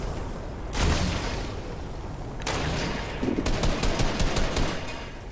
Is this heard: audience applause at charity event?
no